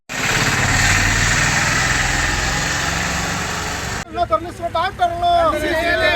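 A tractor hauling sand idles with a steady, rumbling chug for a few seconds, then cuts to people talking.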